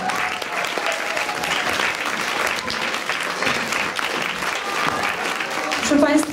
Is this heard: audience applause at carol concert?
yes